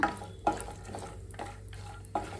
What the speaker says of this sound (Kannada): ಇವಾಗ ತುಪ್ಪ ಕಾದಿದೆ, ಬಾದಾಮಿ ಹಾಕೋತಾ ಇದ್ದೀನಿ, ಗೋಡಂಬಿ.